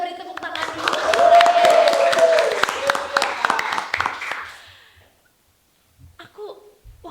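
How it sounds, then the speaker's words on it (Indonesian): Audience in a school podcast session at SMK Negeri 8 Jakarta gives a round of clapping with a sustained vocal cheer over it, rising quickly, holding for several seconds, then fading to near silence before a brief voice returns. "Kita beri tepuk tangan dulu."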